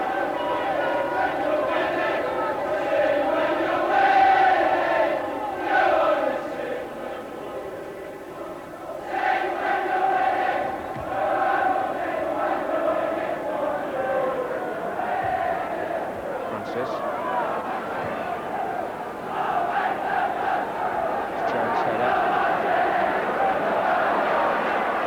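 A football crowd at a Coventry City match against Crystal Palace cheers and roars steadily after Jerry Daly's goal, a dense, sustained wall of voices that stays loud throughout with brief swells.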